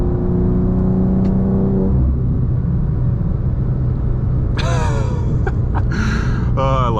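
A BMW M2 G87 pulls hard through its gears from inside the cabin, a loud continuous engine drone with a shift partway through and rising revs, and a person gasps and exclaims over it near the end.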